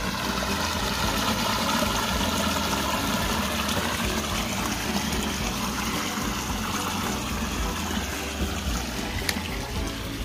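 Clear water from a mountain stream flows steadily past in the evening, a constant close rushing and trickling wash with no pauses.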